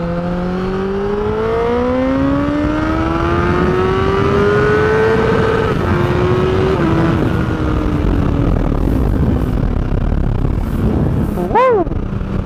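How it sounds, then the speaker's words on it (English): A 1000cc superbike's exhaust revs loudly and steadily, the engine note rising and wavering for several seconds before a sharp final blip near the end. "And now you can hear the exhaust."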